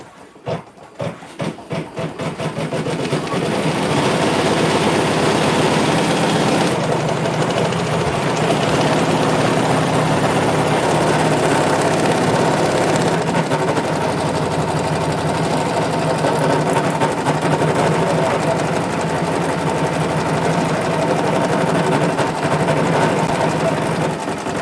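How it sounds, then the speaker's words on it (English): Embroidery sewing machine stitching orange details onto a lace Halloween lantern, a few quick starting ticks, then a loud continuous mechanical whir and rhythmic needle rattle that runs without pause. "So this is stitching some details."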